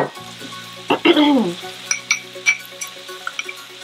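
Garlic hits a hot pan and sizzles, a sudden burst of frying that then settles into crackling and popping with a few light utensil clinks, close and fairly loud, while cooking pasta and fish with capers.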